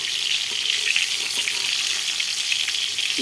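Pointed gourd (potol) frying in hot oil, a steady close bright sizzle with soft bubbling, even and continuous with no speech.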